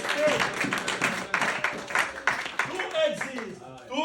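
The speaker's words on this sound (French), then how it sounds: "Applaudissons pour le roi du ciel." Applause and clapping from a congregation during a French and Portuguese church service, a steady spread of hands sustained for several seconds under speech and voices.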